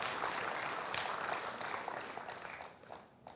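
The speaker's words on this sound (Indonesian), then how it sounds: "Saya mohon tepuk tangan dulu untuk ini ibu-ibu yang luar biasa." An audience at a stunting-prevention talk show and award event applauds the women being honoured, a dense, steady round of clapping that eases off toward the end.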